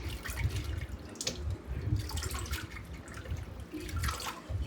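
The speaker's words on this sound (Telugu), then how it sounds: "ఫస్ట్ వాటర్ పట్టుకోవాలి బౌల్లో." Water runs steadily from a tap into a bowl set out for washing coriander, a soft continuous splashing and trickling at low level with no voices.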